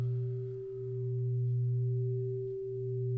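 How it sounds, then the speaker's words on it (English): Steady pure tones played over headphones for binaural listening: a strong low hum and a fainter higher tone hold constant with a slow, gentle swell in loudness, no voice present. "one tone goes into my left ear while I'm wearing headphones, and another tone goes into my right ear while I'm wearing headphones"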